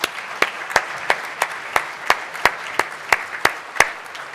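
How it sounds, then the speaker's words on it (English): Scattered applause for a club member at a meeting, a small group giving about a dozen separate, fairly sharp claps in a loose rhythm, moderately close and without voices. "Let's give him another round of applause"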